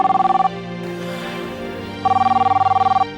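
An indoor telephone rings in two bursts of rapid electronic trilling, one at the start and one near the end, loud and close, with background music and quiet room sound in the gap between.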